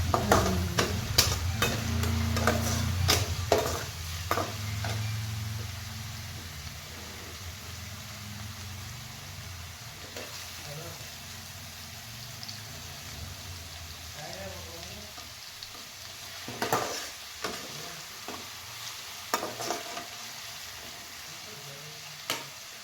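Onions with ginger-garlic paste fry in a pan toward golden, a soft sizzle under a low background hum, with clusters of spoon scrapes and taps early and again near the end.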